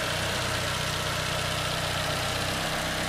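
A 2012 Toyota Camry's 2.5 liter engine idles steadily under the hood, a close, even mechanical hum with a low rhythmic pulse and no voices.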